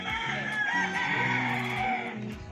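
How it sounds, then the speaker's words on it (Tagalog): Chickens crow and cluck loudly and continuously close by, with overlapping calls, heard at a house construction site. "Ang ingay ng mga manok."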